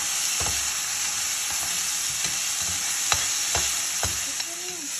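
Garlic and ginger paste fry in a pan with a dense, steady sizzle, punctuated by several scraping stir strokes close by, with no talking.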